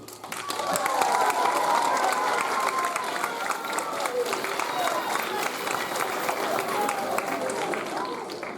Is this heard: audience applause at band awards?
yes